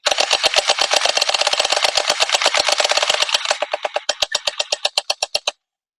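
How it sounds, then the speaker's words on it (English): A QIQQIKIN FMG9 gel ball blaster fires a rapid automatic stream of sharp, evenly spaced shots for about five seconds. The rate slows and thins toward the end before stopping, heard close and loud with no voices. "let's just shoot them and see where we're at."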